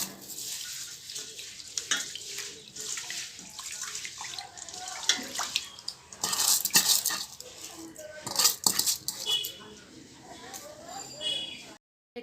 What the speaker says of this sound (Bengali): এবার দিয়ে দেবো জল, এবার দিয়ে দেবো চাল।